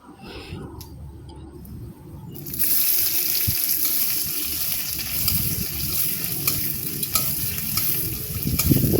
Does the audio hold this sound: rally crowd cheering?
no